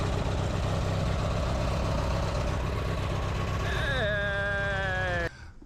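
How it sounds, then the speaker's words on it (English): A tractor engine runs steadily, a dense low throbbing rumble close by, with a rising whine entering near the end before the sound cuts off abruptly. "The engine sounds phenomenal."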